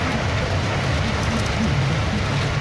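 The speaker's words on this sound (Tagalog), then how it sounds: "Ang lakas ng ulan." Heavy rain in Tagaytay, a dense, steady roar of falling water with no breaks, loud and close, with no voices.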